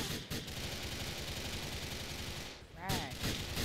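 Rapid bursts of gunfire in Grand Theft Auto 4, dense and continuous across the scene with a brief dip before more shots resume, while a player talks over it.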